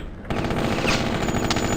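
Automated turrets in a video game let off a sudden burst of rapid gunfire after a brief quiet moment. The shots come fast and even, loud and close, and keep going to the end with no voices over them.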